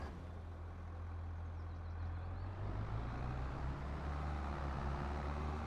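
A tractor in Farming Simulator 25 runs with a steady, low engine drone and rumble, continuous and moderately loud throughout, with no talking.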